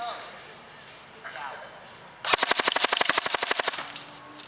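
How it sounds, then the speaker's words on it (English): An Umarex H&K G36C airsoft AEG fires a full-auto burst, a rapid, evenly spaced string of sharp mechanical cracks lasting about a second and a half, preceded by quiet handling and faint background sound. "I'm putting it on full auto, and we're gonna burst it and see how many rounds per second we get"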